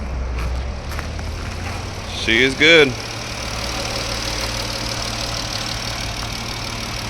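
A Chrysler 3.6 V6 in a Dodge Jeep idles with a steady, close mechanical hum across the clip, briefly broken by a short rising tone; a person speaks a few words over it.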